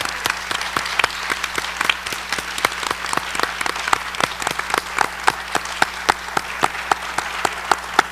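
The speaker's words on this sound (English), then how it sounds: "A big round of applause to everyone here." An audience applauds a restaurant industry panel discussion, with steady clapping and sharp individual claps standing out close by over the continuous patter.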